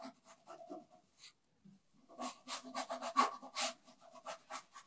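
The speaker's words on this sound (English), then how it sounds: "You can hear the sound, of the rubbing with the bamboo baren." A bamboo baren rubs across paper on an inked woodblock during traditional Japanese woodblock printing, making soft, rhythmic scraping strokes with a brief pause before a faster run of close, dry rubs.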